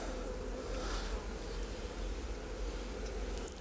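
Honeybees in an opened hive hum with a dense, steady, close buzz that carries on without a break.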